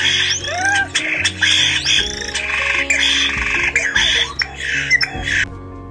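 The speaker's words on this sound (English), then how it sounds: "Starlings. This bird was introduced from Europe many years ago" European starlings call in a backyard, a busy run of squawks, whistles and rising and falling chirps that follow one another closely and sound near and fairly loud for about six seconds.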